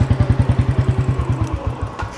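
A Royal Enfield Bullet motorcycle engine idles close by with its loud, even thump-thump beat, each pulse sharply spaced, the rhythm loosening slightly toward the end; no talking.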